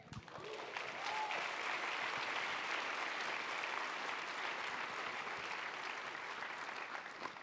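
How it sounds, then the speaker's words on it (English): An audience applauds at a talk on AI and emerging tech, a dense, sustained clapping that holds steady for several seconds without voices on top. "You guys can give him a bigger round of applause."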